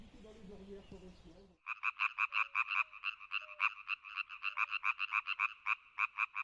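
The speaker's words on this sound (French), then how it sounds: "Voici donc les crapauds communs." Common toads croak at a pond in Lorraine, a rapid series of short, pulsed calls repeating steadily and fairly close, after a brief stretch of low murmuring at the start.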